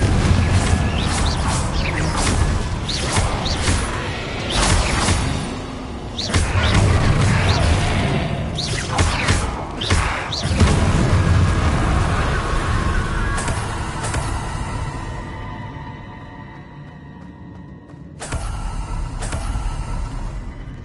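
Explosive spell bursts from Hogwarts Legacy combat, loud booming blasts and crashing impacts layered over dense game music and effects, repeated several times with a brief lull near the end before another burst.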